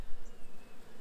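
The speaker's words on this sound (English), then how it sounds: "we got our Colorado bee vat capture box, and if you can hear in there, we got a bunch of bees that tried to take off" A swarm of bees trapped inside a Colorado bee vac capture box gives off a steady, dense buzzing drone that holds at a moderate level for the full second, with no voices.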